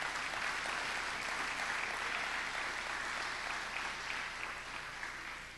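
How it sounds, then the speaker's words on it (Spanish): A church congregation applauds loudly to the Lord during a sermon on family and marriage, a sustained, dense crowd applause that holds steady and fades slightly at the end, heard alone and somewhat distant. "Démosle fuerte ese aplauso al Señor"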